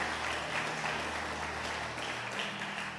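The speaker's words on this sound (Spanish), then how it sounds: "démosle ese aplauso a Jesús" A church congregation applauding during a Spanish-language sermon, a steady, dense wash of clapping sustained throughout with a low hum underneath and no clear speech.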